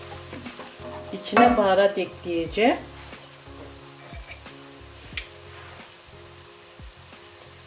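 Tomato paste and onions sauté in a pan for a spinach and pasta dish, a soft steady sizzle with occasional stirring scrapes while someone speaks briefly over it.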